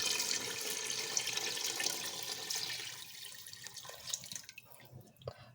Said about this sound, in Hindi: अब मैं इसमें शामिल करूँगी 1 जग भर के पानी का।